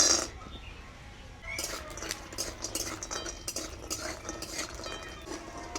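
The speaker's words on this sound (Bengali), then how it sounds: "দিয়ে দেবো কিছুটা সরিষার তেল। বড়িগুলোকে ভেজে নিব।" Bori lentil dumplings frying in mustard oil in a pan, with faint sizzling and utensil scrapes, spoon clinks and stirring clatter running steadily for several seconds.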